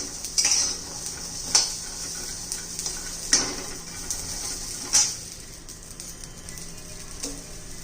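Fresh green chickpeas sautéed in a thin stream of oil in a pan, a steady soft sizzle under four distinct metallic scrapes of a spoon against the pan, close up and with no talk.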